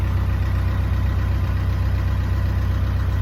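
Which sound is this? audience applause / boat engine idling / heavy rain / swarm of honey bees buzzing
boat engine idling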